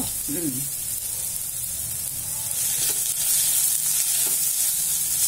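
Finely chopped large onion sizzles and fries in a pan while a Tamil adai with tomato and wheat flour is prepared, a steady hiss under brief low talk at the start, growing slightly louder toward the end.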